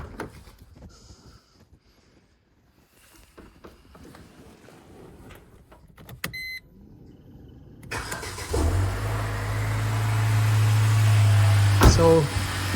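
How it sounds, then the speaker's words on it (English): A Mercedes-Benz B-Class W245 petrol engine cranks and fires after a quiet stretch of small handling noises, then settles into a steady, close idle that continues to the end. "I'm just going to start the car, make sure it's running"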